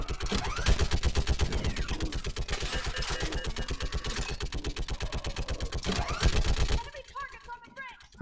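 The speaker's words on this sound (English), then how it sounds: "For some reason, that gun sound effect is still going on." Rapid automatic gunfire from the video game Mass Effect 3 fires as a dense, even stream of shots, loud and close, with voices talking under it before it suddenly stops.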